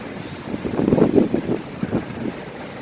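Strong wind with rain gusting after a sandstorm in the U.A.E., a rough, low roaring buffet that surges in uneven waves and then eases, steady and fairly close with no voices.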